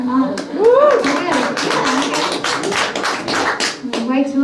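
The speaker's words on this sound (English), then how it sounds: "Wait till the end before you clap." Scattered audience clapping at a live country band show breaks out in quick, irregular bursts, mixed in with voices talking throughout.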